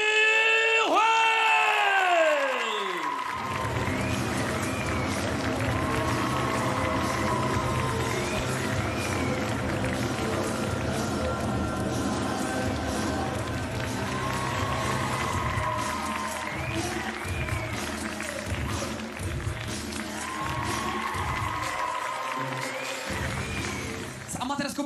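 A crowd cheers, whoops and claps to welcome a fighter at a WLF kickboxing event in Prague. The sustained, loud roar and applause keep running beneath an announcer's amplified voice for the whole stretch.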